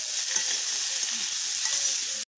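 Potato, chickpeas, peas and cauliflower fry in hot mustard oil, giving an even, close, hissing sizzle that holds steady before cutting off abruptly.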